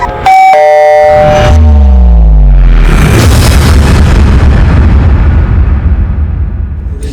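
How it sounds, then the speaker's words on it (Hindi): A ringing chime gives way to a loud, deep explosion boom that rolls into a long, rumbling roar. "आपके घर से बड़े जोर के धमाके की आवाज आई है"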